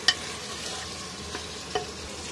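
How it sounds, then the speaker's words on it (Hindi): Steady, loud frying sizzle of garlic, ginger and onion in a hot pan, with a few brief stirring clicks and scrapes over the hiss. "ये देखें हमारे लहसुन, अदरक, प्याज भुन गया। इसकी बहुत तेज तेज आवाज आ रही है"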